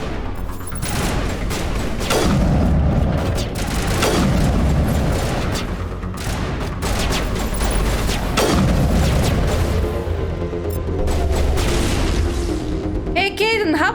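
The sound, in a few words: gunfire in the video game Mass Effect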